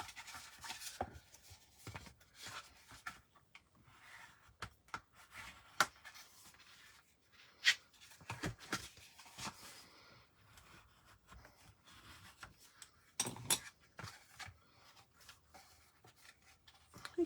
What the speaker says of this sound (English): I can write my sentiment there